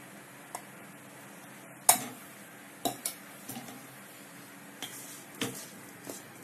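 Cooked white rice tipped into a pan of lemon rice seasoning and stirred, giving a few sparse, light clinks and scrapes of a spoon against the pan, the loudest about two seconds in, over a quiet background.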